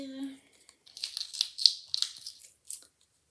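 A small package being opened, its paper or plastic wrapping crinkling and tearing in a run of irregular bursts, close and fairly quiet, after a short spoken word.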